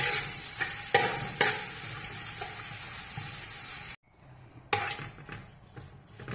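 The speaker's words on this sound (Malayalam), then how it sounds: "ഒന്ന് വഴറ്റുക." Onions sauté with salt in a hot pan, sizzling steadily while a utensil stirs and scrapes. The frying briefly cuts out, then resumes with more stirring clatter.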